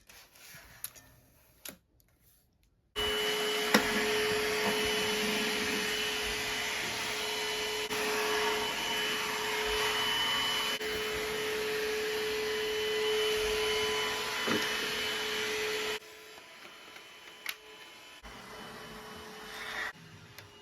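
A Trucozie T350 cordless vacuum cleaner switches on and runs with a steady, loud whirring hum for about thirteen seconds, then cuts off, close up with no talking.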